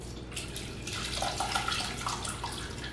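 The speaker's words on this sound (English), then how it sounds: "the first thing I'm going to do now is pour it" Homemade strawberry fruit scrap vinegar being poured into a container, a steady trickling, splashing stream of liquid that swells slightly midway and carries on without talk.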